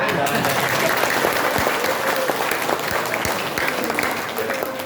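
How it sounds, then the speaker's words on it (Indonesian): An audience at a regional official's address to RAPI radio amateurs claps steadily, a broad wash of many hands that fades slightly toward the end, with faint voices underneath. "Kalau mau tepuk tangan yang lebih serius, coba Rapi masa seperti itu"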